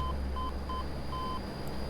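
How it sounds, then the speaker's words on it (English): Overspeed warning in a DHC-8 Q400 flight simulator, a series of short, clean electronic beeps repeating at an uneven rhythm, one held longer, over a low steady cockpit hum. "that beep is because the air is getting denser and we're right on the edge of overspeeding"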